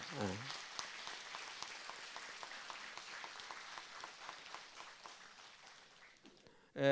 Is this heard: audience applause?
yes